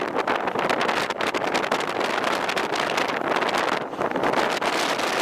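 Strong, steady wind roars and buffets the microphone throughout, loud and continuous with no voices.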